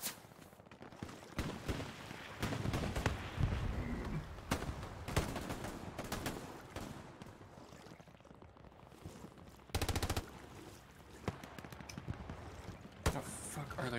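Machine-gun fire in Hell Let Loose, WWII combat: several bursts of rapid gunshots crack out at mid distance, with a sharp, louder volley near ten seconds, mixed with scattered battlefield noise.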